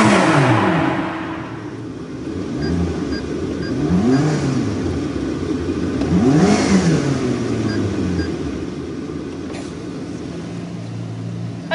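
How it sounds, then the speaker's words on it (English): McLaren sports car with a tuned exhaust revving in several rising and falling bursts over a steady engine drone, moderately loud, as if passing or driving nearby, with no voices. "I made that car sound like this"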